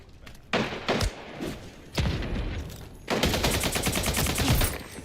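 Gunfire in the video game Splitgate 2: loud bursts of rapid automatic shots, with short pauses between volleys and a sustained fast rattle toward the end, over game sound effects.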